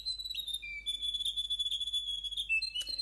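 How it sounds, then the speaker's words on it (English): A riroriro (grey warbler) sings in a garden, its loud, high, thin trilling notes wavering up and down in one continuous close phrase with a brief sharp chirp near the end. "Riroriro's song is very loud"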